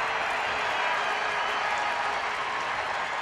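A sellout baseball crowd at Rangers Ballpark in Arlington claps and cheers in a steady, dense wash of sound, fairly distant and unbroken, with no voice over it.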